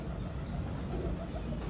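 Pet pigeons coo in a low, steady, rolling murmur close by, alone without speech for a short stretch.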